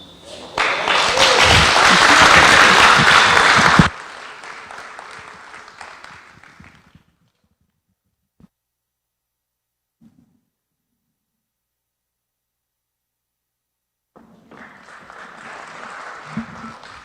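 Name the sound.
applause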